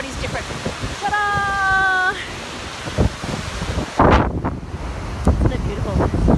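Goðafoss waterfall in Iceland roars as a steady broadband rush under gusting wind, with a short tonal melody early on and people talking nearby.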